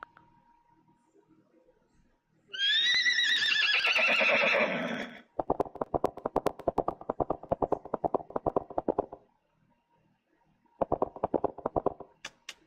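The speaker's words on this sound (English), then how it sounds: "horse neigh." A horse gives a loud, shrill whinny lasting a couple of seconds, followed by a long run of rapid snorting, fluttering breaths and another shorter burst later.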